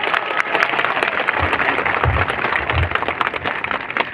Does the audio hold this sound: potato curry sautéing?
no